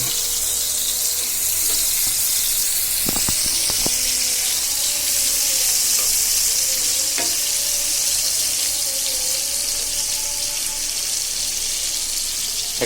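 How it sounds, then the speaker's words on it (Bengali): Shrimp fry in hot oil in a kadai, giving a steady, loud, hissing sizzle throughout, with a few brief clinks of a utensil against the pan. "এদিকে আমি চিংড়ি মাছগুলো ভুনা করার জন্য আগে একটু হালকা ভেজে নিব, তাই কড়াইতে তেল দিয়ে দিছি"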